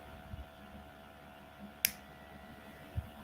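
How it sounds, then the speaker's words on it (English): A single sharp hand clap rings out to trigger a REKA:BIT robot's sound sensor, a brief, crisp snap against quiet room hum, followed later by a faint low thump. "if we make a clap or a loud sound, the robot will move forward."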